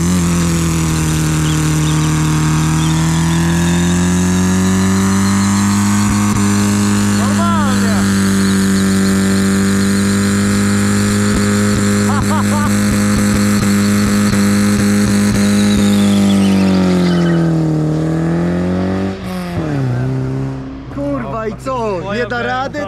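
A 1.6-litre BMW E36 doing a tyre burnout, its engine holding a loud, sustained high-rev drone for a long stretch before dropping and wavering, with voices audible in the background.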